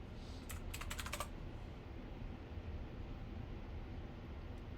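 A short burst of computer keyboard keystrokes, quick and close, entering a terminal command, then a quiet stretch of low background hum without speech.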